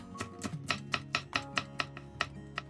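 A knife slices cheongyang chili peppers on a cutting board for water kimchi, about a dozen quiet, evenly spaced chops in a steady rhythm, close by with no talking.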